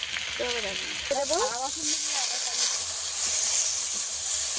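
Ginger fries in hot oil with turmeric and chilli powder for a pakal fish dish, a hissing sizzle that swells louder and steadier after a brief voice at the start.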